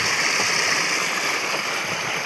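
Shallow water flows along a narrow village stream channel, a dense steady rushing murmur heard up close and alone, without any talk over it.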